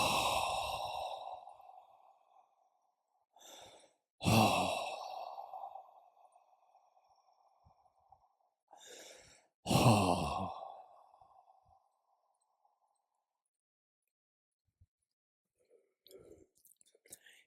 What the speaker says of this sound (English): Take 3 deep breaths out with relief.